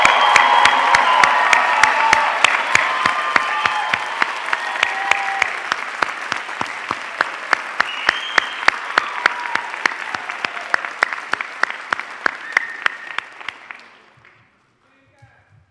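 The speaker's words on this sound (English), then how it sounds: "Please give a round of applause for the Doctor of Pharmacy," A large audience at a university pharmacy graduation ceremony applauds the Doctor of Pharmacy graduates with loud, sustained clapping that holds steady before tapering off abruptly into near silence at the end.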